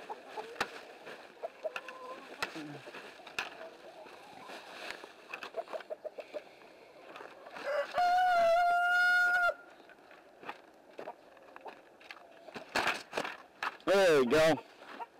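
Chickens clucking and squawking in a coop, with scattered close clucks and several loud drawn-out squawking calls, mixed with shuffling and handling noises.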